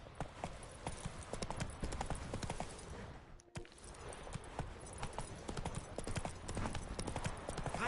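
In The Witcher 3, the horse Roach gallops at speed, a fast rhythmic clip-clop of hooves with a brief break partway through, steady and close.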